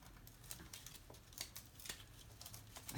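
Scissors cut a piece of card for a handmade diorama box card. The soft, close snipping and papery crinkles are faint and come in a quick, uneven series with no talking.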